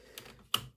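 Ratcheting shoulder joints on a Transformers Studio Series 86 Slag action figure give two quick plastic clicks, the second sharper and louder, close and quiet with no talking.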